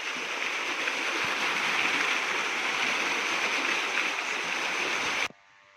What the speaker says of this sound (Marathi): आपल्या गावाला पाणी तिकडे चालू आहे असल्यामुळे आपण मोटर चालू केलेली